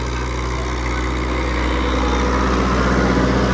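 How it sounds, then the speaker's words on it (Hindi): Dabung 85 hp tractor pulling a disc harrow through moist soil, giving a steady, loud, continuous diesel drone with a deep low rumble that holds constant throughout. "वत्तर ज़मीन में डिस्क मारना आपको पता है कि खासा जोर लेती है ट्रैक्टर"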